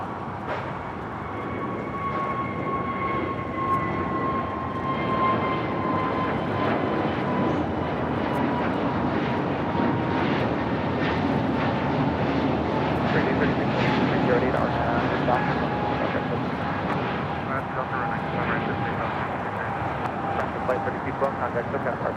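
Jet airliner taking off from the south side runways at LAX, a broad roaring engine rumble with a whining tone that swells and holds, heard from a distance while people talk over it.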